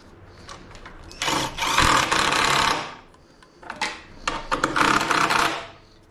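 A 1/2 inch socket wrench ratchets a bolt tight on a motorcycle, with two loud bursts of rapid clicking separated by a short pause.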